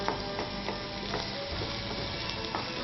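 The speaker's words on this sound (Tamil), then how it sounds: "வெங்காயம் நல்லா வதங்கட்டும்" Chopped onions sizzle steadily in hot oil with cumin seeds in a pan, a continuous close frying crackle with small pops and scrapes throughout.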